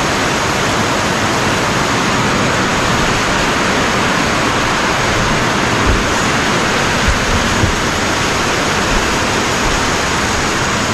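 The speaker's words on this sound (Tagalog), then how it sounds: "Buhos ang ulan" Heavy rain pours down in a dense, steady roar, loud and close, with no voices.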